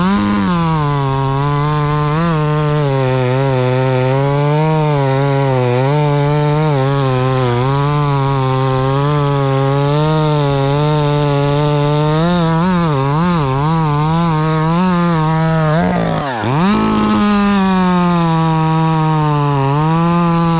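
A small chainsaw makes a straight drop cut through a 12-inch diameter log, running loud and close at steady high revs for about twenty seconds, the pitch wavering as the chain bites, with one brief dip before it picks back up.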